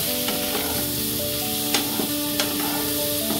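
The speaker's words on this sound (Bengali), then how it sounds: "ভালোভাবে এটাকে নেড়ে নেব।" Boiled potatoes stirred into a masala paste frying in a pan, a steady dense sizzle with a few sharp scrapes and clicks from the spatula, close and without talk.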